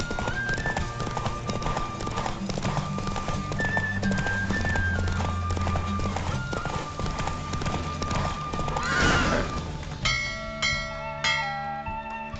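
Steady clip-clop of galloping hooves under lively music in The Witcher 3: Wild Hunt video game, with a horse whinnying and bright chiming tones near the end.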